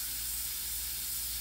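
An airbrush hisses a steady, continuous stream of air while spraying paint, with the pressure turned low. The hiss runs unbroken and close throughout, with no voice over it.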